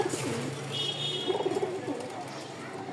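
A pair of gendha pigeons coos in repeated low, soft calls at close range, with some background talk and noise around them.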